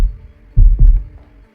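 Two deep, loud heartbeat thumps in quick succession, a close lub-dub over a low hum, as a dramatic sound effect.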